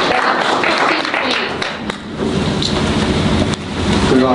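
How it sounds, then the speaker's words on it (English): An audience applauds after the introduction of an undergraduate physics presentation, a steady wash of clapping filling the room for several seconds. "So please give them a round of applause."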